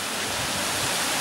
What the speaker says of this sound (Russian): Родниковая вода, это родниковая вода.